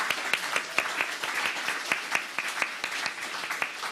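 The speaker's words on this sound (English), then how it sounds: "our guests, Marissa, Chris and Eliza, a huge round of applause." Steady applause from an audience at a children's laureate launch event, dense continuous clapping throughout at moderate loudness with no talk over it.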